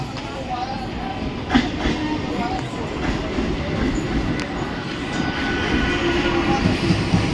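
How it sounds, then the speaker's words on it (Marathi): A local train rumbles steadily into platform 4 of an Indian railway station, wheels clattering on rails, with crowd murmur and faint voices in the background. "local arrive on platform number 4"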